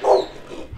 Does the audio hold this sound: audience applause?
no